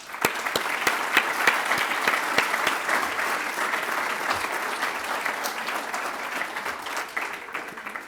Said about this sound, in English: now let's give everyone a well-deserved round of applause